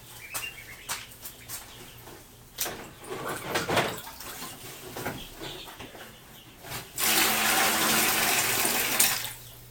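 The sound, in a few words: water being poured out of containers at a duck pond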